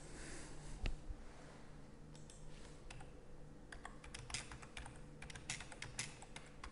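Faint, scattered key presses on a computer keyboard as a barcode is typed in, with short bursts of clicks and the odd heavier tap in a quiet room, and no talking.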